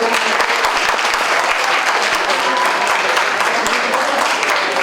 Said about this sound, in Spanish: Les voy a pedir un fuerte aplauso